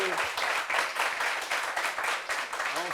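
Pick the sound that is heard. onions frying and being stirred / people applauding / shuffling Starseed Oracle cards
people applauding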